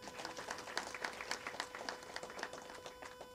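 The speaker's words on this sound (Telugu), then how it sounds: "ప్లీజ్ క్లాప్స్ డైరెక్టర్ గారికి." An audience claps for the film director at a movie trailer launch event, a dense, moderately distant burst of applause that holds steady throughout.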